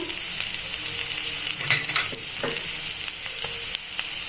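Ground cumin, coriander and a bay leaf fry with cauliflower and roasted chili flakes in a pan for masala pithe, giving a steady close sizzle with occasional scraping stirs.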